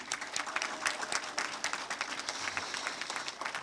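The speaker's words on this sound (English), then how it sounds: "if we could have another round of applause for him." Applause from a ballroom audience at a coronation ball rolls on steadily throughout, a dense patter of many hands clapping at moderate distance with no voices on top.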